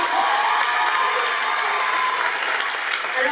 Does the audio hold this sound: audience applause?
yes